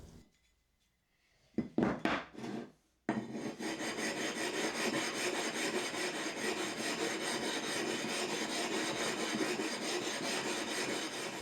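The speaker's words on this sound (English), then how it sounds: "This one stays always flat and is meant to grind your whetstones flat." A whetstone is flattened by grinding it against a black flattening stone: a few short scraping strokes, then a steady, loud, continuous grinding rasp close by.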